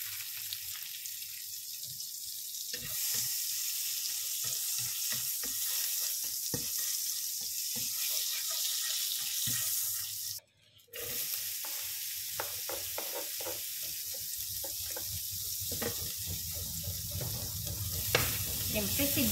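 Tofu sisig sizzles in butter and a little leftover oil in a pan, a loud, continuous frying hiss with stirring scrapes throughout and a brief drop partway through.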